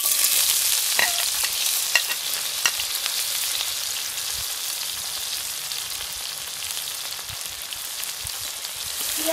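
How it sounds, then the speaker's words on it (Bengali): Chopped onions fry in hot oil in a pan for Bangladeshi bhuna chicken, giving a steady, close crackling sizzle with a few sharp pops and stirring clicks near the start. "তেলটা আমার গরম হয়ে এসেছে, এর মধ্যে পেঁয়াজ কুচি ঢেলে দিব।"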